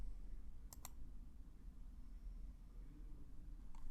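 A computer mouse clicks twice in quick succession on an on-screen Next button, sharp and close, against a steady low hum with a faint third click near the end.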